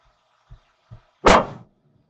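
Dogs give two soft low woofs, then one loud, sharp bark close by.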